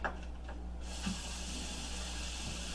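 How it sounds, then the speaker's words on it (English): A tap runs steadily as hands are rinsed in a sink, a soft hissing water flow that starts after a few faint knocks. "I rinse in my hands because I gotta touch stuff."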